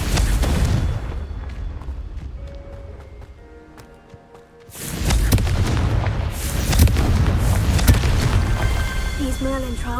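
A Confringo blasting spell explodes during a Merlin trial in Hogwarts Legacy, a sudden loud blast after a quieter stretch, followed by sustained rumbling debris and effect noise with game voices present.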